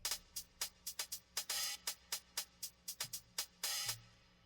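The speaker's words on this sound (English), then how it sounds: "And then this is like a hi-hat pattern." A crisp hi-hat pattern from a hip-hop beat ticks in quick, steady hits with a few longer open hats and a light reverb tail, heard alone and fairly quiet.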